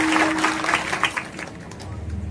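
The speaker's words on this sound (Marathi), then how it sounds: "भूषण महाराज, एकदा जोरात टाळी यांच्यासाठी." Kirtan audience in Babre applauds a young pakhawaj player, a short burst of claps that thins and fades within two seconds, with a brief tone and low rumble in the background.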